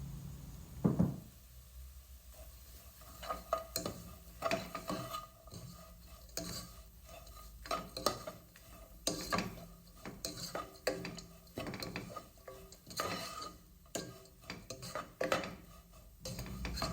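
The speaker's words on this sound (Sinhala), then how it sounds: "කපාගත් අවමිරිස් ටික ඒ වගේම රම්පෙ සහ කරපිංචා ටිකත් එකතු කරලා ආයෙත් කලවම් කරනවා" Repeated scraping and clinking of a spoon stirring sprats fried with green chilli, rampe and curry leaves in a metal pan, a steady rhythmic series of close, fairly loud strokes over a faint sizzle, with no talking.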